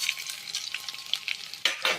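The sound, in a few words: frying coriander and cumin in a pan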